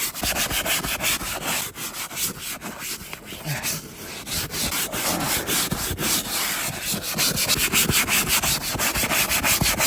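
A stiff brush scrubs hard and fast over a dirty, degreaser-soaked first-generation Cummins turbo diesel engine, a continuous close, loud rasping swish with quick back-and-forth strokes.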